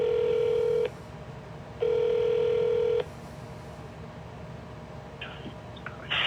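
Keypad tones during a call to an automated phone menu: two long steady tones sound over line hiss, followed by a couple of shorter, fainter beeps near the end.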